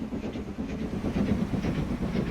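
Trains from the Transport Fever 2 video game rolling along the track, a steady rhythmic clickety-clack with a low rumble throughout, fairly close and continuous with no voices over it.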